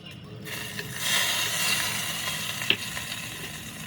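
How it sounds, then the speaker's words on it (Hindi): Mustard oil tempering with dried red chillies sizzles in a hot pan, a soft steady crackle with a few sharper pops, faint and close in a home kitchen. "तो तेल गरम हो गया है, सरसों का तेल का तड़का लगा रही हूँ"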